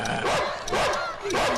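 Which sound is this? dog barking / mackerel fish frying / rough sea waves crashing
dog barking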